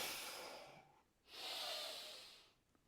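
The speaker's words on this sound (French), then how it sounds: "C'est juste une respiration complète et puissante." Two full, forceful breaths in a breathing exercise, each a long airy rush with a short pause between them, close and loud, with no talking.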